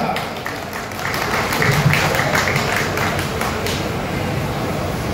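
An audience claps together at a public event, a broad wash of applause that swells slightly and holds, with voices mixed in underneath.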